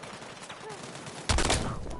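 Gunfire in the video game Battlefield 6 erupts suddenly partway through as a loud, dense burst of shots, after a quieter stretch with faint voices and background noise.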